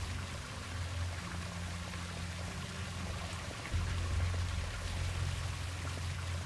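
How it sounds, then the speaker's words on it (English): Water flowing in within the video game Trüberbrook, a steady rushing pour that continues without pause and grows slightly louder partway through, with no talking. "Funny how it only fills up to there, while even though the water's still flowing in."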